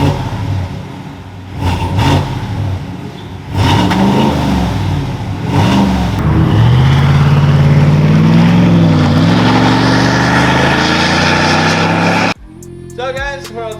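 A Chevy V8 truck fitted with a Gibson Performance exhaust system revs and accelerates loudly and close by, its deep exhaust note rising and falling in pitch before cutting off abruptly near the end.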